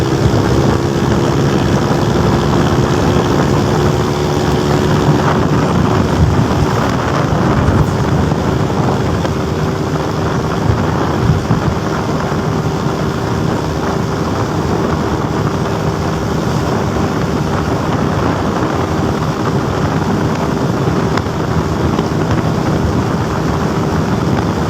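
A Honda Click V3 scooter engine with a stock exhaust pipe idles steadily with a constant exhaust drone and a low rumble throughout, close by with no change in pitch.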